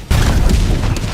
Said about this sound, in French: C'est mon pistolet mitrailleur.